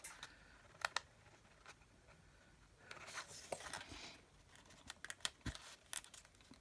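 Scissors snipping paper for winter-themed card making, a few sharp isolated snips followed by a denser run of cutting and rustling, close and quiet with no talking.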